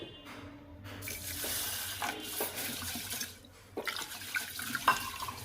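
Water runs from a kitchen tap into a sink as rice is rinsed, with a steady gushing stream, a short lull and then splashing and dripping as the grains are swirled.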